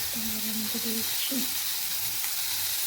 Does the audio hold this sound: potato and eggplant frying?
yes